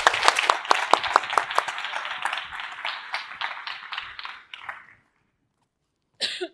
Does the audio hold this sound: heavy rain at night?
no